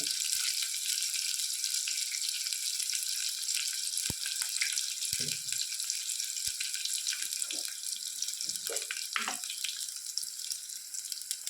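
Broadband sizzling hiss of frying for egg biryani in a pan, steady and fairly quiet throughout, with a few faint clinks and scrapes near the end.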